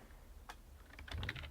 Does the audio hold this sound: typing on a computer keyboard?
yes